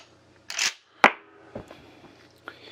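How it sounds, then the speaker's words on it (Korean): A pump-action shotgun is racked by hand to chamber a round: a sharp metallic slide clack, then a hard snap as the action closes, followed by a few lighter clicks, close and dry with no talk. "이게 펌프 액션식의 장전 방법이고요"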